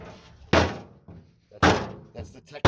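A steel car body panel oil-cans as it is worked during restoration bodywork, flexing with three loud, hollow metallic pops and thumps separated by short quiet gaps.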